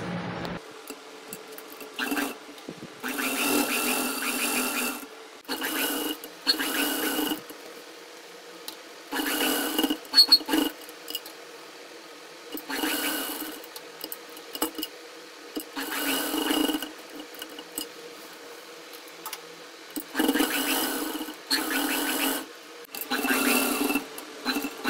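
A sewing machine stitches around a dress neckline in repeated close whirring runs of a few seconds each, with quiet pauses between them.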